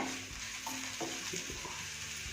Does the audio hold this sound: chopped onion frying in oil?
yes